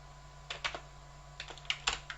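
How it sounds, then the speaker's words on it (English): Keys clatter on an Amiga A1200 computer keyboard in a few quick clusters of sharp, close taps against a faint steady hum, with no talking. "Hang on, can't see what I'm typing"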